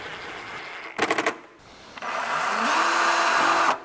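A power drill drills a hole in a drift car repair. A short rattling burst comes first, then a steady whirring drill run of nearly two seconds that stops abruptly.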